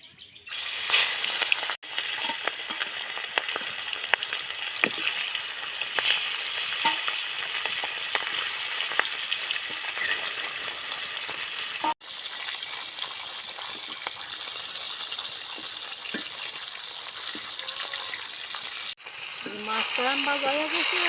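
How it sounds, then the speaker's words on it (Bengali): Fish heads fry in hot oil in a home kitchen, a loud continuous crackling sizzle held close for the whole stretch, broken by two brief dropouts, with a faint voice near the end. "মাছ ভাজিয়ে নেব মাছের মাথা ভাজিয়ে নেব"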